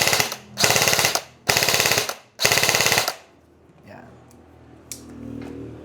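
An airsoft rifle, apparently an ENC 607, fires on full auto in four loud, close bursts of rapid mechanical rattling over about three seconds, followed by quieter handling noises.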